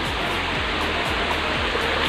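A small mountain waterfall at a bathing spot rushes steadily, a dense continuous splash of falling water with no voices.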